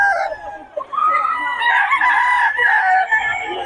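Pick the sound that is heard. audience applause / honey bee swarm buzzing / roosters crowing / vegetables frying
roosters crowing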